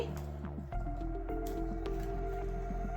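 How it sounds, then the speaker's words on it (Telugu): Rice being mixed with water by hand to make homemade colour, producing close, wet squishing and soft squelches in an irregular rhythm over a steady background hum. "వాటర్ వేసుకుని ఇలా బాగా కలుపుకోండి"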